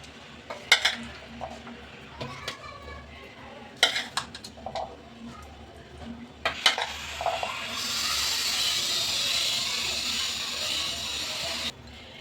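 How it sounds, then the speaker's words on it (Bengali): Chana masala spooned onto a plate, with scattered clinks and scrapes of spoon on dish, then a rising hiss of sizzling in the background. "এবার এই প্লেটে আমি চানা মশলাটা নিয়ে নেব"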